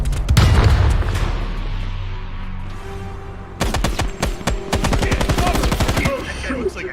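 A thudding grenade explosion opens the scene in the Black Ops Cold War campaign, followed by rumbling debris, then bursts of close automatic gunfire rattle rapidly for several seconds with scattered shots and battle noise around them.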